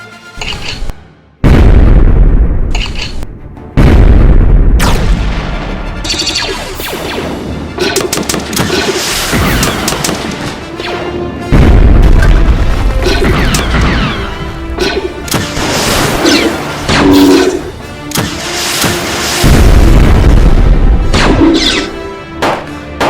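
Artillery fire in a toy war movie, a long run of loud booms and explosions, some deep and thudding, others crackling bursts, close and overlapping without pause.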